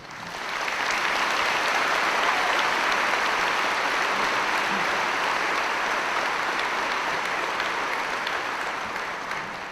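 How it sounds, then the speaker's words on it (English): A large high school graduation audience gives the teaching faculty sustained applause that swells in quickly and holds as a dense, even wash of clapping for nearly ten seconds. "Please give them a round of applause."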